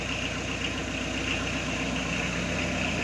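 A Citroën BX turbo diesel idles steadily after an injection pump change, its engine running as an even, continuous low rumble with a slight clatter. The sound is close and loud, and no one speaks.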